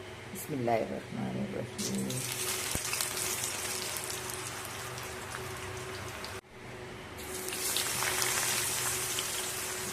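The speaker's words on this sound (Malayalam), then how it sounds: "എണ്ണ ചൂടായി ഇനി എണ്ണയിലേക്ക് ഇടട്ടെ" Jackfruit chips frying in hot homemade coconut oil, a dense steady sizzle and crackle running throughout with a brief break partway, while a voice speaks over it early on.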